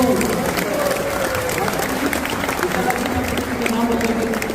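An audience applauds with steady clapping and crowd noise after a children's dance drama about Krishna's birth at an ISKCON temple in Ahmedabad, with voices calling out over the applause.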